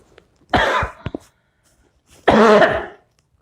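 Two harsh coughs, close and loud, separated by a brief pause, with a short throaty catch in between.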